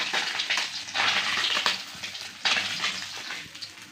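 Small moya fish fry in hot oil, a close crackling sizzle that swells in bursts and eases between them, with a scraping stir partway through.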